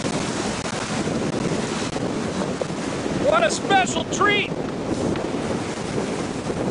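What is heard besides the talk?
strong wind blowing at sea on a sailboat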